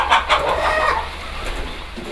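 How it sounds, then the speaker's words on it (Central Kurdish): More than forty hens kept at a home in Erbil cluck and squawk in short, loud, overlapping bursts close by, fading into a softer, steady background murmur from the flock. "هاوکار خاوەنی زیاتر لە 40 مریشکە"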